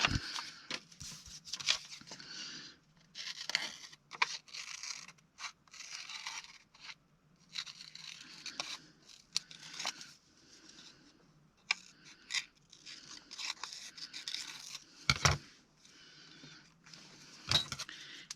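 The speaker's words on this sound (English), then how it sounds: "I need to cut this out" Scissors snipping out a paper cutout for ephemera crafting: quiet, close, irregular runs of crisp cutting strokes with short pauses and a couple of sharper snaps.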